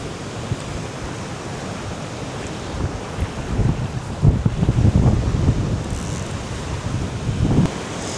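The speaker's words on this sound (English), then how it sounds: "It's a bit windy." Wind blowing outdoors by the water at a fishing spot, a broad rushing roar buffeting the microphone in gusts that swell louder toward the middle and end.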